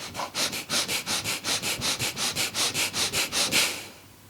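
Deep breathing during a lung-capacity breathing exercise: a rapid, even series of about sixteen strong breath strokes, close and loud, with no talking.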